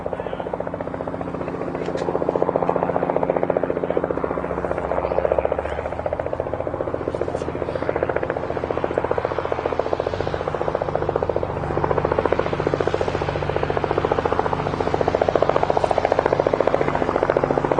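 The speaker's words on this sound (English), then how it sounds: "Very pretty little plane there." A small light aircraft flies at an aerodrome fly-in event at Barton, Manchester, its buzzing propeller engine droning steadily and fairly loud at mid distance, holding an even level for the whole stretch with faint outdoor background noise.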